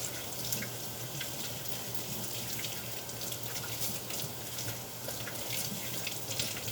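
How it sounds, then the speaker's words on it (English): Water runs steadily from a kitchen tap during handwashing, a soft continuous splashing stream with light drips, heard alone without speech. "So I finished to wash my hand."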